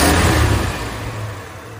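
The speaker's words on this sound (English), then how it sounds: "we got the engine back in, got it all tuned up, adjusted the idle mixture screws right down here to get them balanced, and now running like a top." Tuned Pontiac 316 V8 in a 1956 NAPCO GMC Model 100 truck, running loud and close with a steady rumble that eases slightly, no talk.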